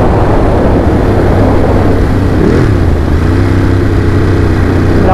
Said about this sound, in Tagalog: Ito yung malakas na motor.